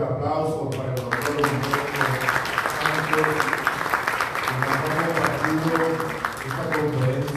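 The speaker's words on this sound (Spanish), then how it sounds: "Nuevamente el aplauso para el doctor" Continuous, moderately loud audience applause for a doctor after a lecture at an education forum, with a person speaking over the clapping throughout.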